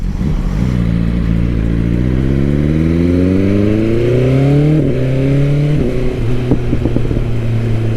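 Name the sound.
BMW S1000R motorcycle engine with quick shifter gear shifts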